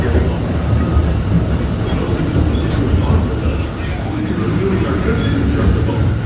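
A theme park train at Disneyland rolls along with a loud, steady low rumble and rattle throughout, heard from close by with a voice in the background.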